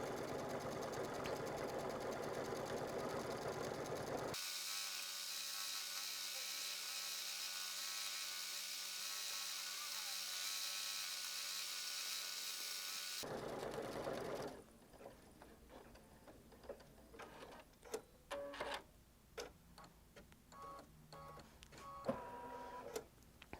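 A Brother embroidery machine fitted with a magnetic sashing frame stitches a design with a loud, steady mechanical whir that stops after about fourteen seconds, followed by scattered faint clicks and handling noises.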